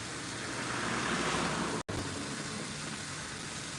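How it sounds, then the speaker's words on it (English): Water rushes constantly down an abandoned artificial waterfall in Florence, a dense, steady roar heard close and loud with a very brief dropout partway through, and no talking. "Giuseppe Poggi had an idea to create this beautiful waterfalls, artificial waterfall"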